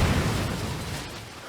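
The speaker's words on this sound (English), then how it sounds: "There's a subsequent second explosion." A deep booming explosion sound effect rolls out at the start and decays into a fading rumble over about a second and a half, with no voices.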